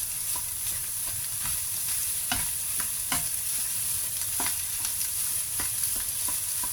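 Egg white and vegetables stir-fry for eel fried rice, sizzling steadily in a hot pan. A spatula scrapes and clicks against the metal at irregular intervals. The cooking is close and continuous, with no talking.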